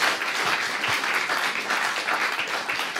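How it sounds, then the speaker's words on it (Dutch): An audience at a Limburg literature event breaks into warm applause, steady dense clapping filling the room at close range without a break. "Mag ik een warm applaus voor Liliane en Thomas?"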